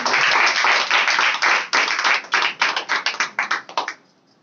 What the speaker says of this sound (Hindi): आइए हम यीशु के लिए जोर से तालियां।